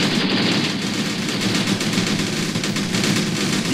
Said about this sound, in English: Open fire, boys, open fire. Don't stop shooting.